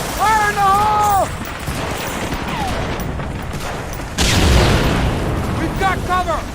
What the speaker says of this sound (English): All right, Jones, let's blow this fence!